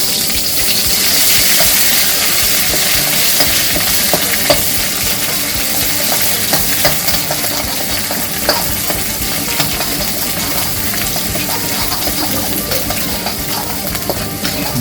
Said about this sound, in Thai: ใส่พริกแกงลงไปเลยพี่น้อง ควรมันหอมเลยพี่น้อง พัดมันแตกมันเลยครับพริกแกงครับพี่น้อง